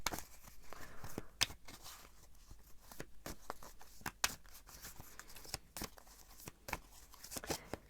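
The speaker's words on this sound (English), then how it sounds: "I'm gonna shuffle a bit more" Tarot cards being shuffled by hand, with crisp irregular riffles and slaps, some sharper snaps standing out, close to the microphone.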